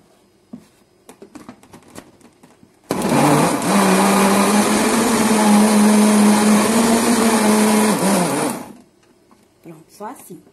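An electric blender whirs loudly and steadily for about six seconds, blending strawberries for a strawberry mousse, with brief speech and kitchen sounds before and after.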